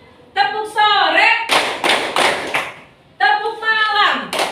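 A classroom of students performs a rhythmic clapping chant, voices chanting in unison between loud, sharp bursts of synchronized hand claps in a repeating pattern, close and energetic.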